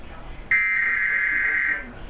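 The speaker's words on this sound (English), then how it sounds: "listen to the emergency alert system with call voice" Emergency Alert System broadcast tone, a single steady electronic beep starting abruptly and holding for over a second before cutting off, loud and alone over quiet background hiss.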